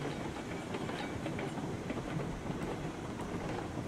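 A Cooke steam locomotive running in RailRoads Online, with dense continuous rumbling and rhythmic clickety-clack of wheels on rails, steady and close throughout.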